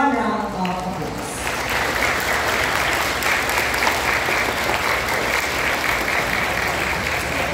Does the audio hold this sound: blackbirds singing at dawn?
no